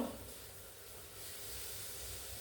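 A pan of sardine chili curry boils and reduces on the stove with a faint, steady hiss and soft bubbling. The sound stays low and continuous throughout, with no voices.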